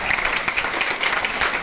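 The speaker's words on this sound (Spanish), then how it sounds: "Un fuerte aplauso para él" Brief burst of applause from a small audience on a comedy reaction show, a dense, steady patter of clapping throughout.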